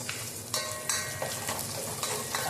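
Onions sauté in hot oil in a pan with a loud, continuous sizzle, broken by scraping stirs and light clinks of a utensil against metal.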